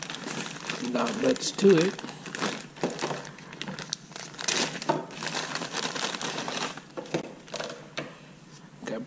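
Crinkling and crumpling of packaging as a Tesla speaker kit is opened, close and fairly loud, with rustling that runs throughout and a brief spoken remark over it.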